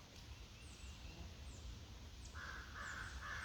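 Several crows caw in short calls at a distance, with faint rustling in the background and a higher buzzing tone joining near the end.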